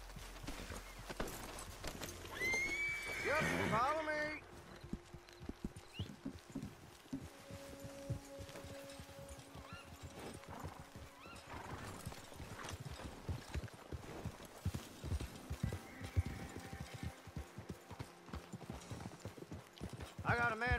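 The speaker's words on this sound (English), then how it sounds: "Get your horses." Horse hooves clip-clop steadily through the clip, with a brief whinny near the start, while someone speaks over the game-like ambience of Red Dead Redemption 2 Online.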